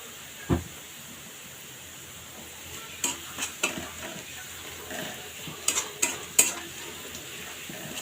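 Onion and garlic frying in oil for a beef curry tempering, with a constant sizzle under repeated scrapes and clinks as a spoon stirs against the pan, close and moderately loud.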